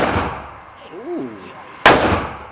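A large gun fires at a shooting range. A loud, sharp blast cuts in near the end after the decaying tail of an earlier shot, with a brief vocal sound in between.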